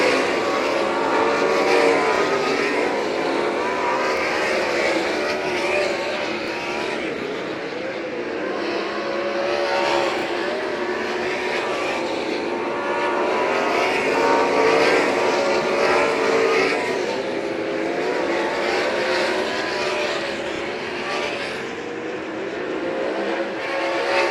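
Sprint cars in a UMSS race at St. Croix Valley Raceway roar steadily around the track, a dense, continuous engine drone that swells and fades slightly as the pack passes, with no talk.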